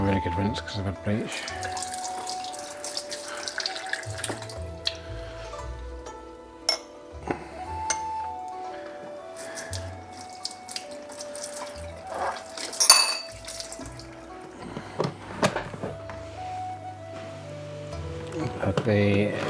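Water runs from a tap as aquarium parts are rinsed in a sink after bleach cleaning, a steady close splash broken by clinks and knocks of equipment, with quiet background music throughout.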